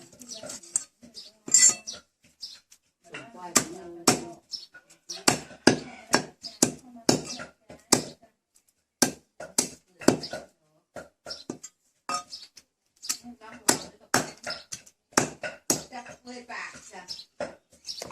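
Repeated sharp thwacks of a cleaver chopping grilled frog on a board, in irregular bursts with brief pauses, close and distinct.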